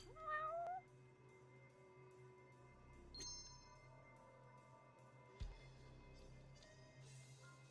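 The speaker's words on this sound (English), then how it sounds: "Yes, there is a kitty." A single short cat meow opens the scene in the video game Judgment, followed by quiet game ambience and soft clicks.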